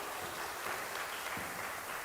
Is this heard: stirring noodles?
no